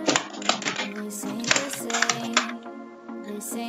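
Keyboard typing as Python code is written, a steady run of close, crisp key clicks with brief pauses, and no talking.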